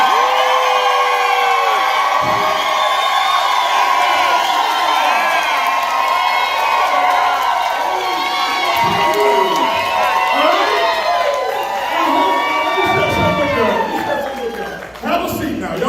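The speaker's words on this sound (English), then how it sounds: "I want to hear a iBuumerang, Raleigh, North Carolina applause for this man here" A large crowd at a live business training event in Raleigh, North Carolina erupts in loud cheering, whooping and shouting, voices rising and overlapping for the whole stretch before thinning out near the end.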